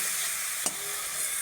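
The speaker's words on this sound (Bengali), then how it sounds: "মশলাটা একসাথে ভালো করে কষিয়ে নেব।" Spice paste with a little water sautéing in a pan, a steady close sizzle with a single short scrape of a stirring spoon partway through.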